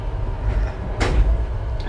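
An Indian Railway passenger train from Hubli Junction to Bangalore rumbles low and steadily, with a brief, sharp burst of rushing noise partway through.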